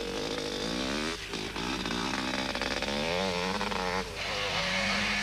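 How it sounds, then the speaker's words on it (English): Enduro motorcycles, including KTM and Kawasaki bikes, race at the 1988 Swazi Sun 500 with loud, continuous buzzing engines, revs rising and falling as several machines pass close by. "Kevin Tebbutt was not quite as smooth as the two leaders, but hung on to third place tenaciously on his KTM"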